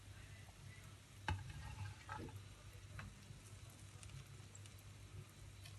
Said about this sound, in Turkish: Şimdi biberlerimi şöyle karıştırarak atıyorum.